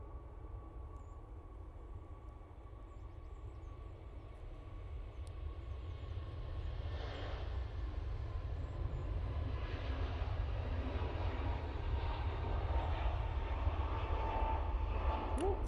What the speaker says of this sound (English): EJ A321 Neo now on the roll.